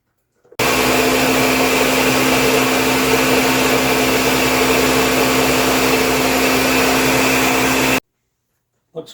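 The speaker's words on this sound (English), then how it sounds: "Blend it well." A blender purees sweet potato pie filling in one continuous loud, steady whir lasting about seven seconds, starting and stopping abruptly, with no talk over it.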